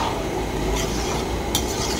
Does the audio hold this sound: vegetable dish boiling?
yes